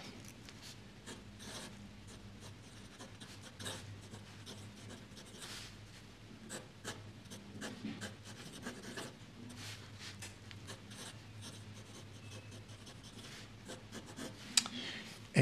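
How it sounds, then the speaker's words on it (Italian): A Pilot Hero AI fountain pen with a medium nib scratches across copy paper in quiet, steady strokes with small pauses, close up and faint, with no voices. "Andiamo a provare questo pennino, un pennino un po' particolare, abbiamo detto, della serie AI, Hero AI, un pennino M."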